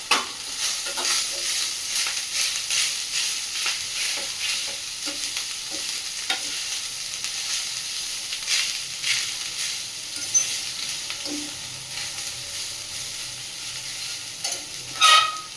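Rice and onion frying in a pan, a continuous close sizzle and hiss with repeated scraping strokes of a spoon stirring through the mixture, no voices.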